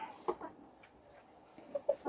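A few short, faint clucks from a rooster, spaced apart against quiet outdoor background.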